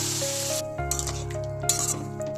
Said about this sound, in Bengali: এবার অল্প একটু জল দিয়ে নেবো মশলাটা ভালোভাবে কষানোর জন্য